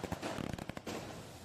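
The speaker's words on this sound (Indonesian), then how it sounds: "ini rasa syukur kita menyalakan kembang api malam ini ya" Fireworks go off at night during a street celebration in Pati, Indonesia, a dense run of rapid crackling pops and bangs fading into a lingering roar.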